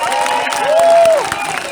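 An outdoor crowd at a health-care workers' march in Montréal claps and cheers, with scattered sharp claps, voices and a long rising whistle over the steady noise.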